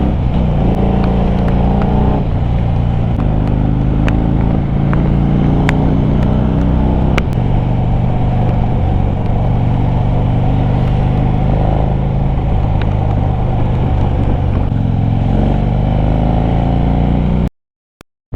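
A Harley-Davidson Fat Bob 1800cc motorcycle cruising in fourth gear, its engine a loud, steady low drone with wind roar close to the mic, holding for several seconds before cutting out abruptly near the end.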